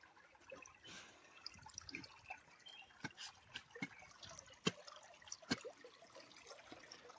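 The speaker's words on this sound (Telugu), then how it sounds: "వాటర్ సౌండ్ కూడా భలే వస్తుంది" Water dripping and trickling in a forest, faint and close, with scattered irregular drips and sharp splashy ticks over a soft steady trickle, no voices.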